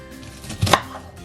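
A knife chops through an onion, likely without a chopping board, giving a few quick close cuts that peak in a sharp cluster midway through a short stretch, with no talking.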